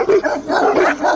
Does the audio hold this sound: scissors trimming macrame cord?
no